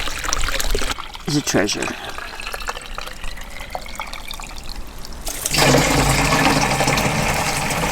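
Spring water trickles and splashes at Frog Springs, a desert water source near the Alvord Desert, with a voice speaking briefly over the steady flow before the water noise surges louder and fuller.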